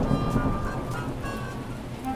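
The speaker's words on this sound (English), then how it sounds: "Oh dear, it's raining." Steady rain patters down throughout a Peppa Pig toy-play scene, a continuous, fairly loud hiss and spatter with a brief low rumble early on and no voices over it.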